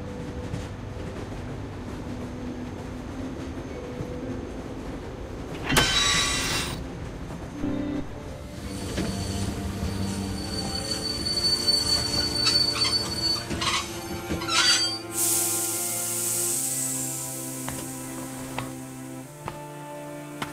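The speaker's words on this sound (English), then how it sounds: "Stop the train, man." A train rolling along rails in a tense drama scene, with a steady rumble and squealing wheels throughout, loud bursts and a harsh high hiss near the end, with no talking.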